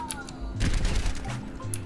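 Rapid automatic rifle fire from Soldier 76 in Overwatch, a short dense burst of shots lasting about a second, close and fairly loud, with softer game noise around it.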